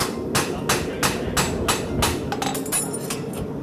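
Sharp metal-on-metal hammer strikes drive a punch through the nail holes of a horseshoe held on an anvil horn at a farrier clinic, about eight evenly spaced ringing blows, close and loud, with no talking.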